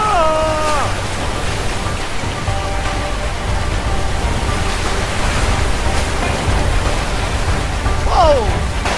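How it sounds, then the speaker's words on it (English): Rushing river water roars steadily as a raft approaches a waterfall in the video game A Way Out, a dense wash of noise with brief shouted voices breaking through. "Paddle to the left. Waterfall! Waterfall!"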